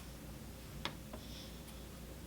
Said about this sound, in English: That sound was the S-hook on the back falling that I used to weight my floating selvage.